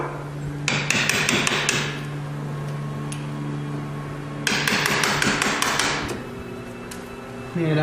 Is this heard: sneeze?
no